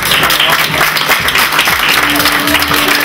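Steady crowd clapping for beauty pageant contestants, a dense continuous wash of applause with a host talking over it throughout.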